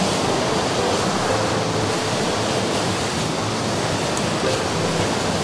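A rushing stream flows in a constant broadband roar of water, loud and close, steady from start to finish with no talking over it.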